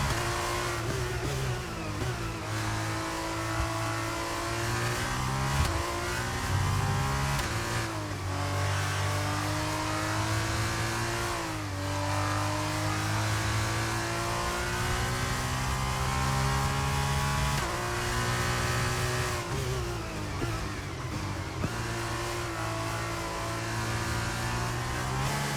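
Several F1 race car engines scream through the final lap of a race in the F1 23 video game, rising and falling pitch sweeps as gears change, loud and continuous with no voices.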